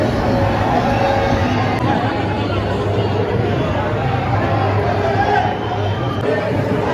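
A dense holiday crowd fills Jivdani temple in Virar on Dussehra, a steady close babble of many overlapping voices and general bustle that stays loud and unbroken throughout.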